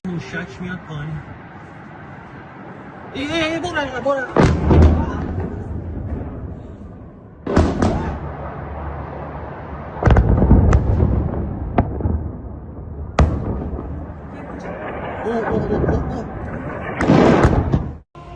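Heavy booms and sharp blasts from airstrikes and air defense fire erupt repeatedly amid distant rumbling over Tehran, with people talking and shouting between the explosions.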